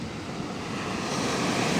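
Sea waves at Arnala Beach, a steady broadband wash of surf mixed with wind rumble, close and fairly loud over a short stretch.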